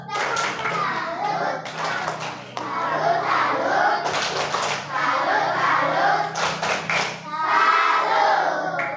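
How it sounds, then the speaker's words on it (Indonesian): Schoolchildren in a classroom clap their hands together in several sharp bursts, the claps close and crisp, mixed with loud children's voices chanting and calling out between and over them. "Coba tepuk tangan dulu untuk daun selanjutnya."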